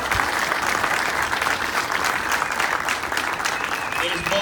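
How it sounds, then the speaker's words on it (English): A crowd at the 605 Innovation District launch event gives sustained, loud applause for Jimmy Allen, CEO of Bureau Gravity, with a dense, even wash of clapping from start to finish. "Let's give him a round of applause."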